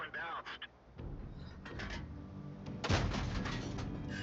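A tank shell strikes enemy armor during a World War II tank battle game with a Heavy T1, giving a loud booming impact amid rumbling engine noise and scattered clanks, with a voice talking over parts of it.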